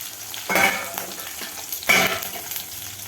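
Ingredients sauté in a pan with a steady crackling sizzle, broken by two louder bursts of stirring and scraping about a second and a half apart, close and alone with no talking.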